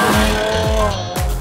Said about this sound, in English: I heard the engine roar.